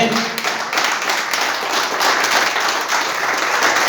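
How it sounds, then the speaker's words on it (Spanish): A church congregation applauds during an evening worship service, with dense, steady clapping filling the room throughout at an even, loud level. "Denle un aplauso a la palabra"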